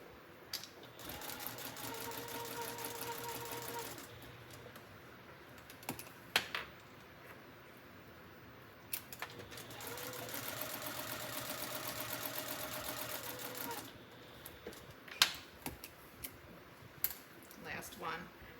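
A sewing machine stitches a liner for a Longaberger road trip basket in two long, steady whirring runs, separated and followed by clicks and handling noises, close and fairly quiet.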